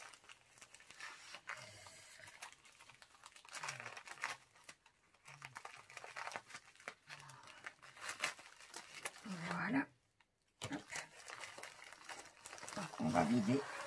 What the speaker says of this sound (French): Donc, je vais reprendre mes ciseaux de nouveau.